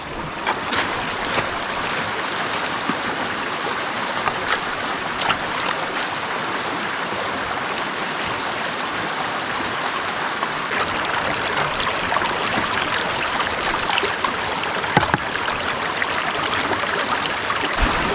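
Water rushes steadily through a prospecting sluice, washing muddy, mucky material in a continuous broad splashing flow outdoors, close and fairly loud throughout with occasional sharper splashes.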